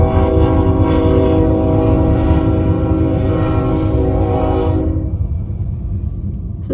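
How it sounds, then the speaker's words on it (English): An old-fashioned looking train passing in Tucson sounds a loud, sustained multi-tone horn over a deep rumble of rolling cars; the horn cuts off near the end while the heavy rumble continues close by. "Such an old-fashioned looking train."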